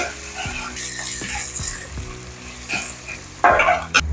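Chopped onions, tomato, coriander and mint sizzle in a hot pan for brinjal pulao while a spoon stirs them in regular scraping strokes, with a louder clatter near the end.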